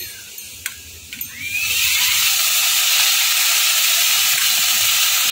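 Kulekhara greens hit hot oil with potatoes in a pan, setting off a loud, sudden sizzle that surges after a few light clinks and holds as a steady, bright hiss.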